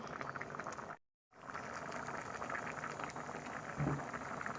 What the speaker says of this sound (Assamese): এয়া মই অলপ আৰু উতলিবলৈ দিম।